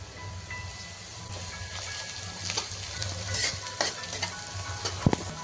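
Chopped onion with turmeric fries in a pan for street-style egg bhurji, a steady close sizzle broken by scraping spatula stirs and a few sharp clinks.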